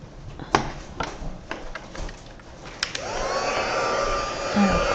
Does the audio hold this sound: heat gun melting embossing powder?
yes